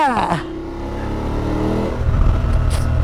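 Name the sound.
BMW F850GSA motorcycle accelerating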